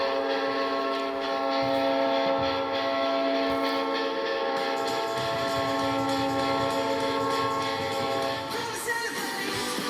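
A loud, sustained train-horn hockey goal horn blares continuously with rich layered tones, accompanied by crowd roar at an ice rink, fading slightly near the end.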